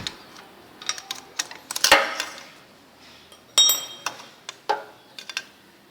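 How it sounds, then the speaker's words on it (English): A tommy bar works the spark plug cable off a Royal Enfield Classic motorcycle, giving a series of sharp, close metallic clinks and taps. The sounds come in irregular clusters with quiet gaps between them. "I've used the Tommy bar, or you can use a screwdriver to take off the cable."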